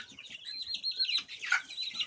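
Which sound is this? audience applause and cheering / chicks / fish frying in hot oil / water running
chicks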